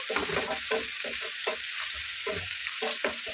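Chopped green chillies fry in a pan with a steady hiss of sizzling oil, broken by repeated scraping and stirring strokes as they are turned, close and moderately loud.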